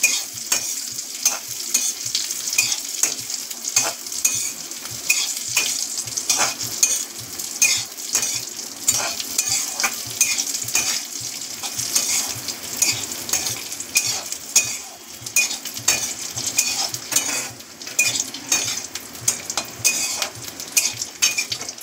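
Cashews and raisins frying in ghee, a steady close sizzle broken by frequent clinks and scrapes of a spoon stirring against the pan, running without pause; no one speaks.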